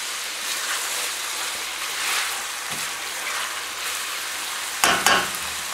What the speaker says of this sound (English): what you want to do is you just want to fry the sausage meat briefly in the grease that comes off